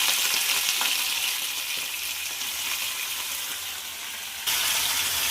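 Chicken pieces dropped into hot oil for chicken sharwa hiss and sizzle steadily at close range, a broad bright frying crackle with a sudden louder burst near the end as more goes in.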